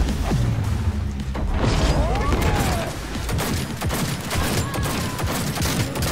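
Johnny Silverhand's pistol in Cyberpunk 2077, a burst of loud, close gunfire with sharp cracks and booms, followed by ongoing game noise.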